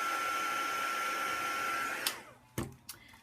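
A heat gun blowing a steady whooshing stream of hot air over black permanent marker ink on an altered playing card, then cutting off and followed by a few sharp clicks and knocks.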